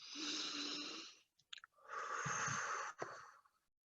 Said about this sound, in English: you take a nice deep breath